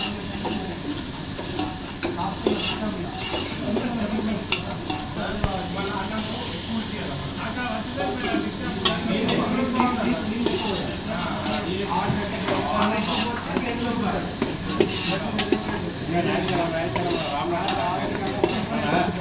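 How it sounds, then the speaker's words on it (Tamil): Ginger and garlic stir-fried in a pan for crab curry, a steady sizzle with scraping stir strokes running throughout at close range, while people talk over it. "இஞ்சி பூண்டு நல்லா வேக அளவு கிண்டி விடணும்."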